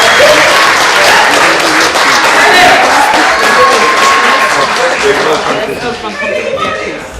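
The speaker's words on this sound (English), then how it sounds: "Give another round of applause for Louis, everybody." Wedding guests burst into loud, sustained applause after a speech, with a crowd murmur and a few cheers mixed in. A voice carries over the clapping, and the sound tapers slightly at the end.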